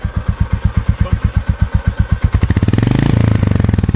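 A Royal Enfield Goan Classic 350 motorcycle exhaust thumps at idle, the steady single-cylinder pulses loud and close. The bike then revs up into a denser, rising roar that settles back down near the end.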